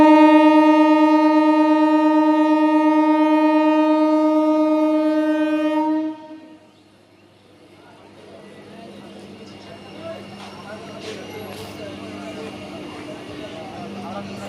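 Train at Moshagram station sounds a long, loud harmonic horn blast for about six seconds, then cuts off, leaving quieter rumbling rail and platform noise with faint background sounds.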